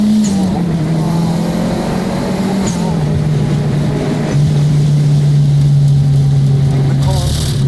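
A Peugeot 205 GTi turbo engine roars loudly from inside the car, holding a strained steady drone that shifts pitch with gear changes and brief whooshes of boost and blow-off between pulls.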